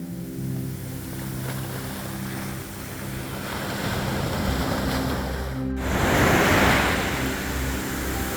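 Sea waves surging onto a sandy beach in Thiruvananthapuram, Kerala: a continuous wash of surf with wind rumble, swelling louder toward the end as a bigger wave breaks close by.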